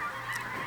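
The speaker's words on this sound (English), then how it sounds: "These are the geese" Geese honk in a brief, faint burst of calls from migrating birds, heard alone without any speech.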